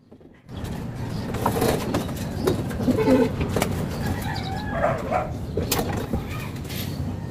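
Racing pigeons coo in a loft, soft low murmurs running steadily under scattered wing flaps and brief bird noises, with a faint dog bark somewhere in the background.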